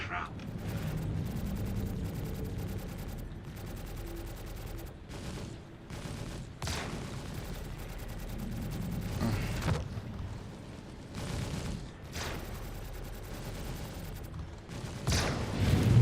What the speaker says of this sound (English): Oh, that shotgun.